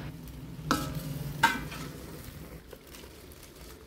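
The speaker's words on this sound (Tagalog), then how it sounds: "make sure lang halu-haluin din natin para lahat ng ating gulay ay makoat nitong ating pampalasa" Chop suey vegetables being tossed with seasoning in a hot pan, with soft sizzling and two sharper scrapes of a utensil early on, then a steady low frying hiss.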